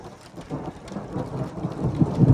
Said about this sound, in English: Oh, rain's coming in.